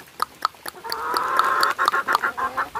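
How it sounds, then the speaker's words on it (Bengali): Several chickens cluck and call in short, repeated bursts inside a coop, close and fairly loud, with one drawn-out cackle in the middle and no talking. "এই যে দেখুন আমার কতগুলো মুরগি আছে।"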